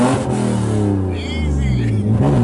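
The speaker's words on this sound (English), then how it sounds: "he's just doing a basic burnout" A BMW E36 doing a burnout, its engine held at a loud, droning rev that swells and dips slightly, close by, with people talking over it.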